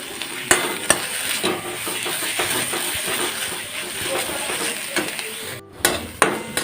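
Spice paste of ridge gourd skin with turmeric sizzles steadily in a pan while being stirred, with frequent sharp scrapes and clinks of a spatula against metal and a brief dip near the end.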